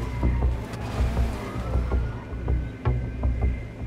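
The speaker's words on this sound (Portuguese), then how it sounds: "Chegou um carro ali, ó." A car rolls up in a GTA RP video game, its engine a low rumble with brief mechanical clunks and tones, heard close and fairly loud for a few seconds.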